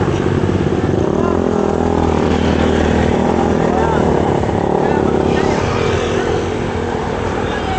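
A Suzuki Raider motorcycle rides past on a mountain road, its engine droning loudly and steadily from close range, with people talking over the noise.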